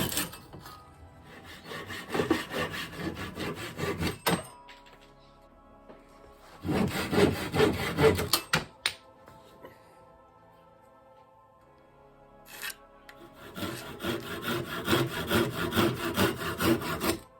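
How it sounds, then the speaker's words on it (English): Bursts of hand sawing through a wooden plate down its sides, three separate rounds of rapid back-and-forth strokes with quiet pauses between, close and fairly loud, with no talk. "Then there's a bit of serious sawing to get the plate down the sides"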